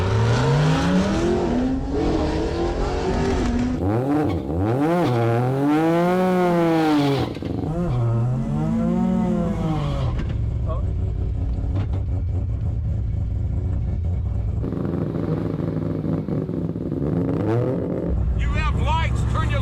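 A three-rotor Mazda RX-7 launches at full boost, its engine screaming through rapid revs and sweeping pitch changes, loud and close, then dropping into a rough idle and bursts of throttle while people talk over it.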